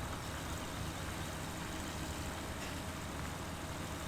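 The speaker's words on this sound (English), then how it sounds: "A heavy tractor." A Kirovets articulated heavy tractor engine in Farming Simulator 17 drones steadily at a constant low rumble, with no variation in pitch or level and no talk.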